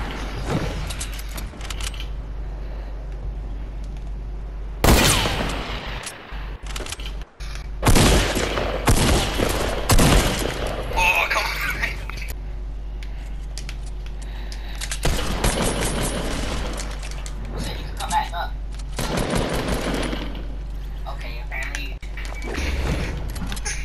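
Slow-firing gun in Fortnite, with loud, widely spaced shots cracking at intervals over a low steady hum, mixed with mechanical clicks and brief lulls between volleys.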